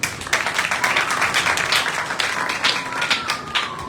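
A congregation at an evangelical sermon gives a burst of applause, dense overlapping claps filling the whole stretch at steady loudness, close and lively.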